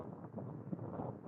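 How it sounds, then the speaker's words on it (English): Steady wind rumbles and buffets the microphone in a low, continuous roar, with no other clear sounds. "Very windy. Sorry about the wind,"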